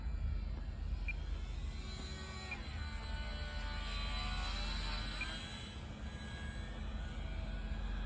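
Small Sport Cub S2 RC model plane on a 250 mAh battery flies over a front yard in gusty wind, its electric motor a faint, steady high whine over continuous wind rumble.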